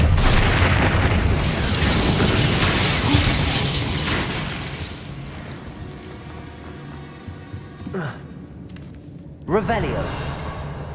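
A Bombarda spell blasts in Hogwarts Legacy, opening with a loud booming burst that rolls off into a fading rumble, followed by a couple of sharper pops later on, with a voice speaking over it.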